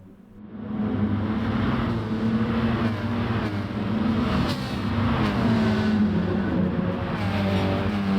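Several Peugeot RCZ Gr.4 race car engines in Gran Turismo Sport at the Red Bull Ring, a steady loud drone of cars running side by side down a straight, pitch wavering as they rev and shift.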